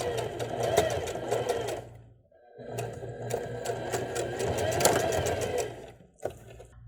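A sewing machine stitches a seam in two long rapid whirring runs with a short pause between them and a brief restart at the end, close and steady.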